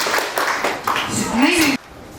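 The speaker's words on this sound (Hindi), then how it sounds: "इसी क्लैपिंग को एक रिदम में चेंज करते हैं" An audience of participants at a rhythm event clapping together in short, evenly spaced bursts, with a voice talking over the claps.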